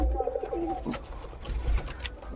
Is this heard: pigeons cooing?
yes